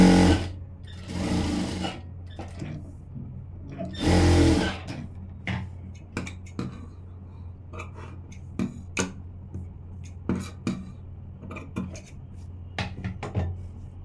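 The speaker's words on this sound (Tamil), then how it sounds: "இப்போ இந்த ஓரத்தில் தைச்சிக்கலாம்." A sewing machine stitches along the edge of a blouse in short, close bursts of mechanical whirring and ticking, with a steady low hum beneath and a couple of louder runs near the start.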